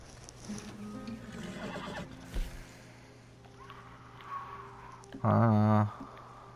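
A horse in the video game Red Dead Redemption 2 lets out a loud, wavering whinny near the end, following a quieter snort and hoof sounds, with someone talking earlier.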